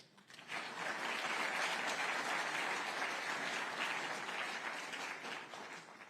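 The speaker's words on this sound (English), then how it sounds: "Please answer with a round of applause if you would have signed up for that result." A crowd applauds steadily for several seconds, a dense even clapping that swells quickly and tapers slightly at the end.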